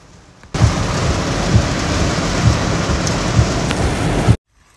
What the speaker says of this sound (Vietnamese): ở đây thì lại mưa nhiều đó. Cho nên bây giờ mình không có chỗ trú nên phải ngồi ở trong xe.